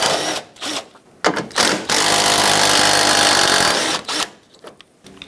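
An impact or power tool spins out the 10mm bolts along the top of a 2007-2014 Chevrolet Silverado 2500 HD grille, with short bursts of whirring and then one long steady run of about two seconds, loud and close.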